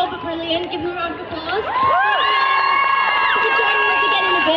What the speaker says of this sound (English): Give a round of applause to my lovely band